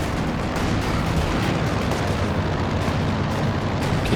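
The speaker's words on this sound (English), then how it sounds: "the Katyusha coming down over here as well from Tulip" A Katyusha rocket artillery barrage rains down in Company of Heroes 2, a dense, continuous roar of overlapping blasts and rumbling impacts, loud and unbroken with no talk.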